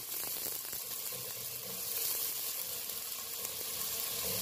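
Onions sizzle steadily in a hot pan as they are stirred into browned garlic for a mung bean dish, a dense continuous frying hiss that stays loud and close throughout.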